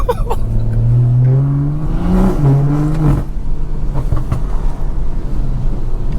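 A BMW 340i with a loud aftermarket exhaust revs hard nearby, climbing and dropping in pitch, then settles into a rumbling idle with scattered crackling burbles and pops.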